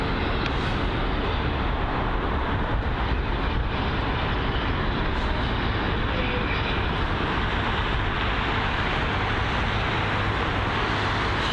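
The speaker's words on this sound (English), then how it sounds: "that British Airways aircraft didn't even attempt to land" A British Airways airliner flying a go-around at London Heathrow, heard as a loud, steady, broadband jet engine roar that fills the whole stretch without letup, with no talking.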